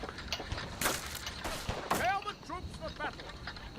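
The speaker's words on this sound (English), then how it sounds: "These muskets are very inaccurate" Musket volleys in a strategy video game battle: scattered gunshot cracks and crackling fire over a busy battle soundscape, with a voice speaking over it.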